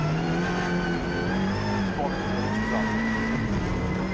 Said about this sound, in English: That Golf Mark II, really lovely sound from the engine, giving a real grunt as it goes through.